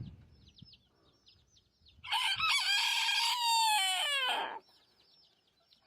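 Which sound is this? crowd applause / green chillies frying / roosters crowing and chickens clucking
roosters crowing and chickens clucking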